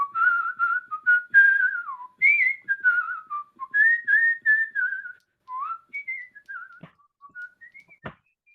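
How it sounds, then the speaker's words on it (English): Someone whistles a lively melody alone, clear and close, with notes gliding and bouncing between phrases, ending with a couple of sharp clicks. "trying his level best to whistle"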